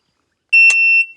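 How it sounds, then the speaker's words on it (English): A shooting timer gives a single loud electronic beep on a steady high tone, lasting about half a second, then a brief fading tail, with no talk over it. "when you hear the timer, you're gonna attack the pronunciation of the B-E-E-P as soon as you can"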